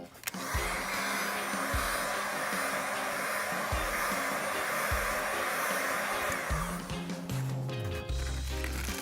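Heat gun blowing hot air over Onewheel grip tape as it is peeled off, a steady close whoosh running throughout with a few soft knocks and shifts near the end.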